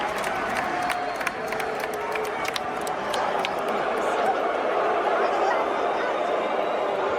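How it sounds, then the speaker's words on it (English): A WWE wrestling arena crowd reacts to John Cena heading out to the ring: a dense, steady roar of chatter and cheering that holds at the same level throughout. "there's a crowd also just talking to Cena while he's, out to the ring"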